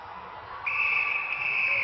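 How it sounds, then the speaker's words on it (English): An umpire's whistle at a netball World Cup match between Barbados and Zambia, one sustained shrill blast cutting in over faint arena hubbub. "And she scores it, so on the whistle, Faisili, that goal will count."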